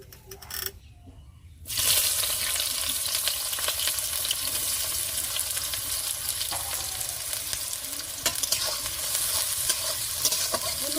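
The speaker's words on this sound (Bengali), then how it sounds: "পেঁয়াজটা হালকা করে ভেজে নিয়েছি" Onion frying in hot oil with bay leaf in a pan, a steady loud sizzle that bursts in after a brief quiet start and continues evenly with faint stirring clicks.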